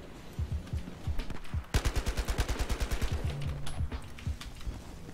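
Rapid bursts of AKM rifle fire in Battlefield Hardline: sharp automatic volleys, loud and close, with a long sustained burst in the middle followed by scattered shots.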